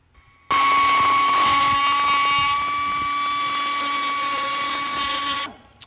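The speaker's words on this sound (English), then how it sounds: "used a die grinder to clean it up" A die grinder runs steadily at high pitch for about five seconds while trimming aluminium on a Nissan GTR, starting abruptly and winding down at the end, loud and close with no voices.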